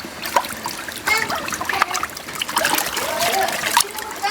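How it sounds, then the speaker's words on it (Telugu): Dirty, muddy water splashes and trickles off a motorbike during a home water wash, steady and close, with brief splatter bursts. "ఇదిగోండి మురికి నీళ్ళు."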